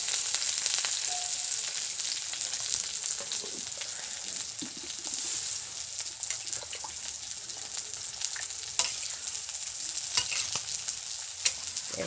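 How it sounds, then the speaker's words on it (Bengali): Chicken curry sizzles and hisses steadily in a pan over a village straw fire once water goes in, with faint stirring clicks and scrapes scattered through the moderate, continuous frying sound. "এবার মা ওতে একটু পরিমাণ মতো জল দিয়ে দেবে।"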